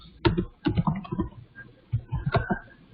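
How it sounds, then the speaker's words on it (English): Computer keyboard typing during a programming lesson: bursts of quick, close key clicks in irregular clusters, alone with no talk. "Sorry, that's my typing."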